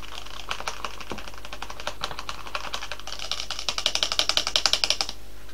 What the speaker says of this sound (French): Je viens remuer.